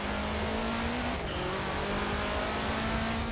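A Subaru WRX race car in Forza Horizon 4 holds a steady, loud engine drone throughout, with a sustained note that shifts pitch partway and faint tire noise underneath.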